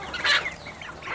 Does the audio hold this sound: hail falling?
no